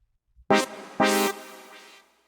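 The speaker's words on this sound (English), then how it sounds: "Right here, my synth." Two bright synthesizer hits sound in quick succession, the second held and slowly fading out, alone with no voices.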